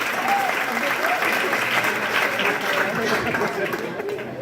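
A crowd claps steadily and enthusiastically for several seconds, dense applause with some voices mixed in.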